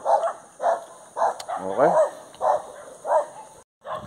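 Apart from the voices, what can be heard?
dogs barking along a running route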